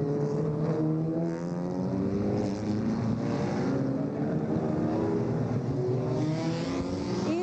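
A procession of more than sixty vintage MG sports cars rolls past at Watkins Glen for a false grid parade, their engines blending into a steady, continuous drone of overlapping motor harmonics with no talk.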